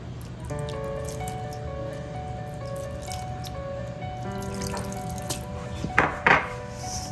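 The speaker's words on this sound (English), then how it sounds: "Adding water to make the dough." Water trickles and drips into a puri dough mixture with soft squishing, over a steady background hum, ending in a couple of sharper splashes.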